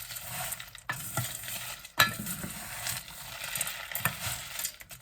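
Sambar powder spices are roasted and stirred in a pan, giving a steady dry sizzle with scraping strokes and occasional clinks of a utensil against the metal, close and without talk.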